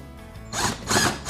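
Power driver sinking 2.5-inch screws into glued wood furniture parts, a close whirring, ratcheting burst that starts after a quiet hum and pulses in two or three loud surges.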